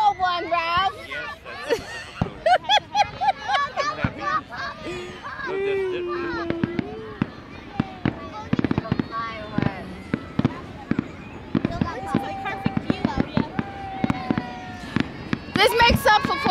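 Fireworks bursting over Orchard Beach in the Bronx, a dense run of sharp pops and crackles with whistling rises, mixed with crowd babble and children's voices nearby.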